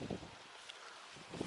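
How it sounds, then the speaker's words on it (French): Wind buffets a microphone outdoors in a vegetable garden in spring, low rumbling gusts at the start and end with a faint hiss between them. "Désolé pour le vent, c'est un peu pénible."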